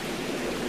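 Heavy downpour of rain in a folk tale, a steady dense roaring wash of sound, loud and unbroken, with no voices over it.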